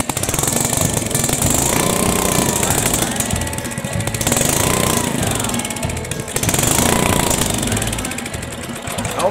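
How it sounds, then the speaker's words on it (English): The small gasoline engine of a 1974 Sears rototiller runs after starting, a loud, close, rapid chattering putter that holds steady with slight surges in speed throughout. "Let's try starting it again."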